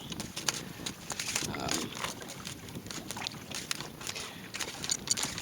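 A sailboat under sail on Cowan Lake makes headway through choppy water, with splashing and sloshing against the hull, gusts of wind on the microphone and scattered knocks close by.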